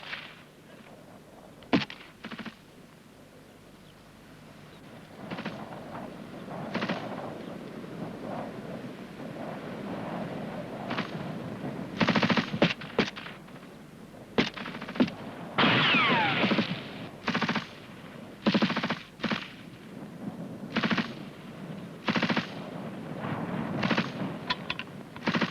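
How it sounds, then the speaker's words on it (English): Rifle group laying down covering fire during a section fire-and-manoeuvre drill, with machine gun bursts and single rifle shots cracking out irregularly over roughly twenty seconds, moderately distant, with wind buffeting the microphone. "the rest of the rifle group are giving them covering fire."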